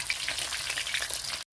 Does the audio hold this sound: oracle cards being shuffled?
no